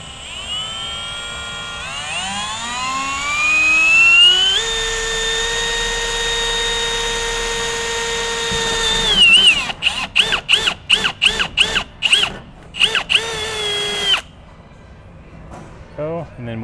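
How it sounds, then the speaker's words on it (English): Power drill with a 5/16 drill bit starting a hole in metal for a GX470 tire carrier, spinning up to a loud whine, holding steady, then pulsing in short bursts before stopping. "So we should be able to use the 5/16 drill bit to get it started."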